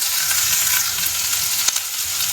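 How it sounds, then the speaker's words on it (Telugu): Capsicum, spring onions, mushrooms and paneer sautéing in oil, a loud continuous sizzle with faint stirring scrapes and one small clatter near the end, no voices. "ఇవన్నీ ఒకసారి ఆయిల్లో మిక్స్ చేసేస్తాను. వీటన్నిటిని సాటే చేసుకుంటా."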